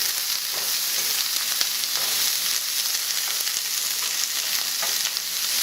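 Frozen green beans fry with garlic in a hot pan, giving a dense, loud, continuous sizzle with faint crackles and the occasional scrape of stirring, close up and with no talking.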